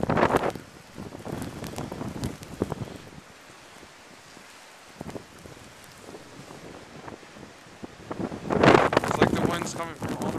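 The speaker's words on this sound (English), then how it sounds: "Another strong gust is coming." Fierce wind gusts roar during a 2010 February snow blizzard, loud buffeting bursts at the start and a stronger surge near the end, with a quieter lull between.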